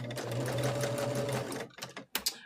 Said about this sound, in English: I am serging the strips together